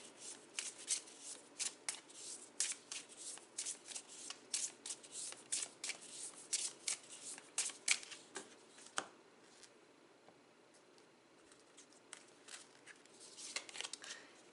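Tarot cards being shuffled by hand, a quick run of soft, close flicking and riffling snaps in irregular clusters that thin out toward the end, quiet throughout with no talking.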